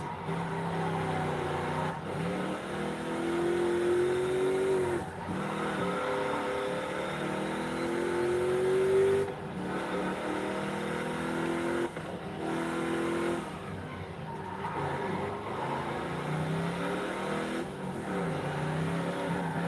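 A naturally aspirated car with upgraded tires, brakes, weight reduction and cams drives laps in a racing game, its engine revving up and down through repeated gear shifts, loud and continuous with occasional brief dips.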